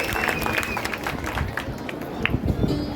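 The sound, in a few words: audience applause after a dance performance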